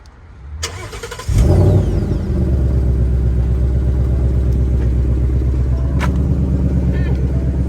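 A Ford Mustang Bullitt engine cranks briefly, catches with a loud burst, then settles into a deep, steady idle with a slight rev, heard close up.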